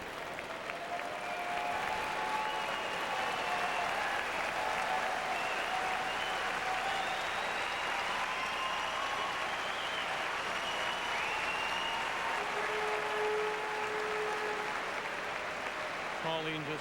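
Spectators at the 2003 Ford World Women's Curling Championship, Denmark versus Canada, applauding in a steady, continuous wash of clapping that fills the arena throughout, with a commentator speaking faintly over it.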